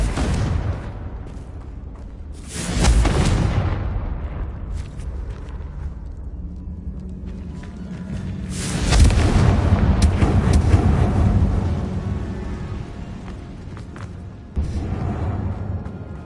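The Confringo fire spell in Hogwarts Legacy on PS4, two big booming blasts with crackling fiery decay a few seconds apart, followed by a sharper thump, loud and close, no talk.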